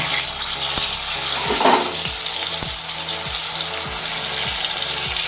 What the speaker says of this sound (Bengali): তেল আমার গরম হয়ে গেছে আমি টমেটো এরকম স্কিন বাদ দিয়ে রেখেছিলাম সেটা আমি আস্তে আস্তে দিয়ে দিচ্ছি